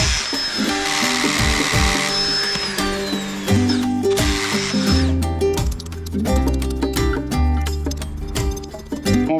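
Power drill boring holes for Fischer anchor bolts during a gate installation, with bursts of whirring and grinding alongside clanks and mechanical rattles, loud and close.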